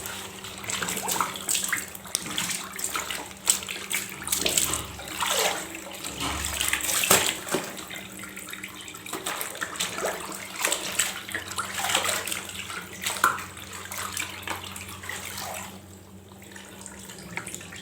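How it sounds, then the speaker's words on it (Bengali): Clothes being washed by hand in water, with steady sloshing, splashing and wet rubbing going on for a long stretch with a brief pause, moderately loud and close, with no talk. "একবার করে ধুলাম আরেকবার করে ধোবো তারপর শুকোতে নিয়ে যাবো ছাদে"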